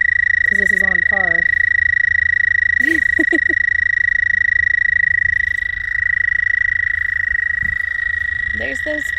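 Toads calling from a backyard homestead pond in early spring, a few short pulsed trilling bursts at moderate distance over a steady tonal hum and low background rumble.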